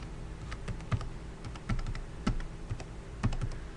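Clicky keystrokes on a computer keyboard tap out in irregular bursts at close range, with a steady low hum underneath and no talking.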